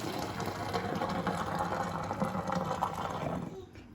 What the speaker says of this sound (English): now that our noodles are done, they are ready to be drained